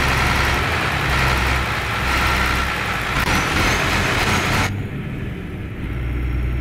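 A MAN Lion's Coach R07 bus engine drones steadily while driving on a Turkish map in Euro Truck Simulator 2, a continuous low rumble with a brief drop in tone near the end.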